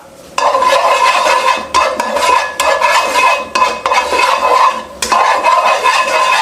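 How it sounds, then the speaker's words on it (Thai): Bean sprouts sizzle loudly in a hot oiled wok while a utensil scrapes and tosses them in repeated strokes, steady and close with no voices. "ผัดให้ถั่วงอกโดนความร้อนทั่วๆนะครับ"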